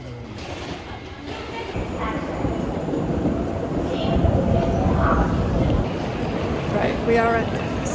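Airport rail train at Incheon Airport Terminal 2, its first stop, rumbling steadily at close range with a broad, continuous roar that swells slightly midway, faint clicks and brief tonal squeals near the end.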